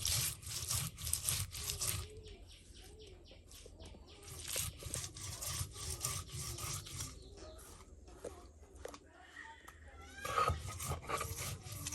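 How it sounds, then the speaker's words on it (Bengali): Onion, garlic and cumin being ground together on a stone slab in a Bangladeshi village kitchen: repeated rough scraping strokes in a steady back-and-forth rhythm, close and fairly loud, with no talk. "পেঁয়াজ রসুন জিরা সব একসাথে এই যে বেটে নিচ্ছে"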